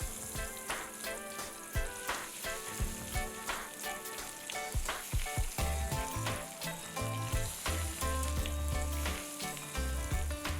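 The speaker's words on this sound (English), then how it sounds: "Time to fry them. I have oil on heat. Let's slide in the cutlets." Poha cutlets shallow frying in hot oil, a steady close sizzle and crackle running throughout with occasional spatters and pops, no talking.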